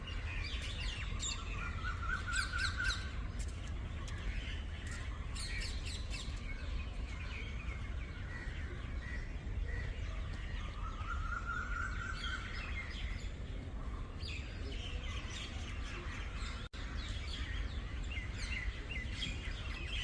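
Several birds chirp and sing at once, with short tweets and repeated trilling phrases spread over a steady low outdoor rumble. The calls sound moderately distant, there is no talking, and one sharp click cuts in near the end.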